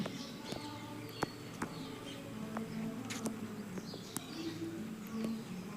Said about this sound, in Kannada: ಹಕ್ಕಿಗಳೆಲ್ಲ ಕೂಗೋ ಸಹಿತ ಕೇಳಿಸಿದೆ ಚಿಲಿಪಿಲಿ ಚಿಲಿಪಿಲಿ ಅಂತ ಹೇಳಿಬಿಟ್ಟು ಕೂಗ್ತಾ ಇರೋದು